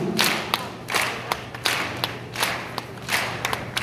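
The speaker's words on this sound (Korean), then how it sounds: "박수가 필요한가 봐요." A worship gathering claps along in a steady rhythm, sharp group claps landing roughly every half second over a low hum, with no talking.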